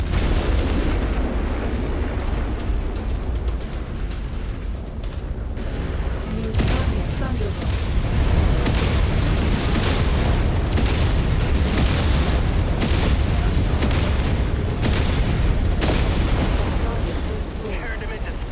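A mech blows up in MechWarrior 5 VR combat, heavy booming blasts and weapon fire rolling on loud and continuous, with a dense surge of explosions after a brief lull.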